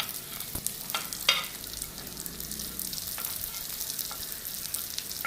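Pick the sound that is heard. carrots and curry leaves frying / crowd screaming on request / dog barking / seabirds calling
carrots and curry leaves frying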